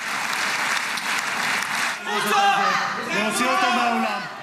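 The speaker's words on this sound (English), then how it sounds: "stopped repeatedly with applause" Crowd applause at a Gaza peace plan signing ceremony in Egypt fills the first half, then someone speaks over the tail of the clapping as it fades.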